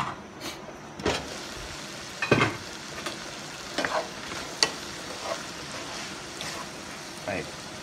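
Shrimp frying with cauliflower rice in a pan, a soft steady sizzle broken by irregular scrapes and stirring clatters, fairly quiet and close, with a person talking now and then.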